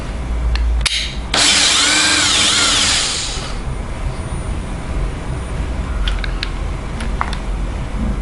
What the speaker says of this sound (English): so as you can see, that drills it very easily